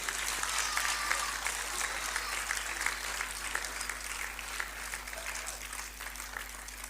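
Audience applause fills a hall at a talent hunt program in Karachi's Arts Council, a steady, dense clapping that holds for several seconds, loud and close with no voices on top.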